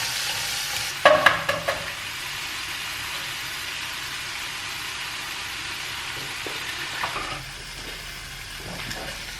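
Sausage frying and starting to burn in a pan, a continuous loud sizzle with a few sharp pops and clicks early on, then a slight drop in level near the end.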